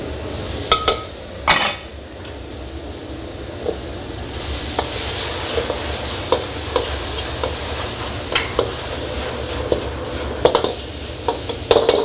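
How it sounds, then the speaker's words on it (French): Mangrove crab, dusted in flour, frying in hot oil in a New Caledonian kitchen: a steady close sizzle and hiss with a few sharp clinks of a utensil against the pan, and no talking. "Faites frire le crabe pendant 3 minutes dans l'huile."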